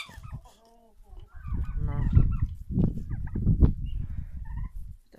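Two roosters, one red and one multicoloured, in a backyard flock call with honking, gobbling fowl cries, several overlapping calls rising and falling at close range.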